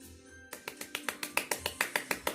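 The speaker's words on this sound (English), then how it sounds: "Give yourselves and everybody else a clap who's participated in this" Exercise class participants clapping together in a steady, evenly spaced rhythm of about a dozen sharp claps, close and fairly quiet, with no talking over them.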